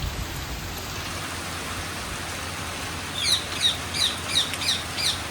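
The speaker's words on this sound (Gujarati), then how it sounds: "જો વરસાદ ચાલુ થઈ ગયો" Steady rain falls outdoors as a broad, even hiss, with a bird chirping several times toward the end, fairly close.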